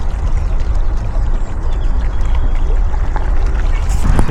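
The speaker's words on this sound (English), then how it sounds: "there's nothing better than that sound, is there? The water hitting on the edge." Water sloshes and laps continuously against a hard edge nearby, a loud, steady splashing wash with no voices.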